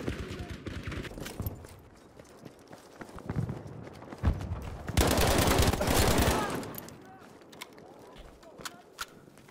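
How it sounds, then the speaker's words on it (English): Gunfire in the video game Battlefield 5 on the Rotterdam map, with dense rapid shots and a loud sustained burst midway, under ongoing speech. "Who the hell is bloody shooting me?"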